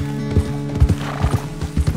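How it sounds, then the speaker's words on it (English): Horse in the video game Red Dead Redemption 2, close steady clip-clop of hooves in a regular walking rhythm over a soft background, with no talk. "The horse can feel your fear."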